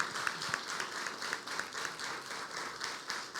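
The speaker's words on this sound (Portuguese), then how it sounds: "Vamos dar uma salva de palmas para Jesus pela vida dele." Church congregation at a family worship service applauding together, a dense rhythmic wash of many hands clapping steadily in unison, moderately loud and sustained, with a faint voice underneath.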